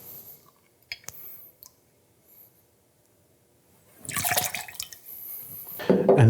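Cointreau orange liqueur is poured into a measure for a blood orange cocktail: a quiet start with a few small clicks, then a brief liquid pour and trickle near the end.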